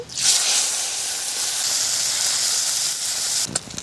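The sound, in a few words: fish frying in hot oil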